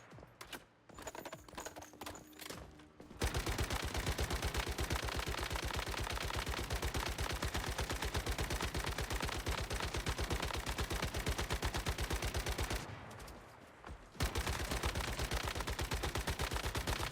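Rapid automatic gunfire from a video game runs nearly nonstop, loud and close, with a sparse stretch of single shots at the start and a brief pause before the firing resumes.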